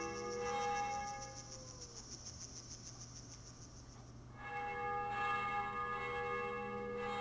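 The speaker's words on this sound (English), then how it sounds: "We got bells. Church bell?" Church bells ring in the PS1 game Juggernaut with bright sustained tones that fade, pause briefly, then strike again and ring on, moderately quiet and with no talk.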